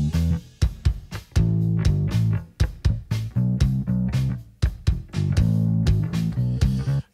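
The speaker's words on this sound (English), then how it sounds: "we will listen to the bass drum and the bass together." Kick drum and bass guitar play together without compression, a steady groove of punchy low thumps locked with sustained bass notes that crowd the same low range, loud and alone with no voices.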